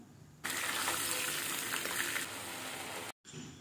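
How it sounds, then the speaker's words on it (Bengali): A fish head frying in mustard oil over medium heat, a loud, steady hiss of sizzling oil that starts abruptly, holds for a few seconds, cuts out briefly and resumes softer. "এরপর মাছের মাথাটাকে ভেজে নিব"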